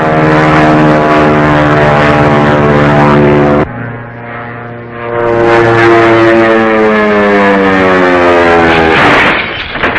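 Loud close drone of a propeller airplane landing at a flying school in a 1942 serial, engine pitch shifting as the throttle drops and rises again.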